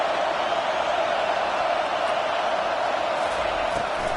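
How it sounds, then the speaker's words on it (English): Steady stadium crowd roar in a college football video game, Texas Tech against Wisconsin on a third-down defensive stand, a dense continuous wash of noise with no breaks, loud and even throughout. "Decibels rising as the crowd gets behind this defense on third down."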